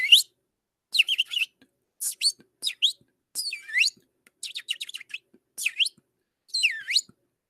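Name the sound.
bird chirping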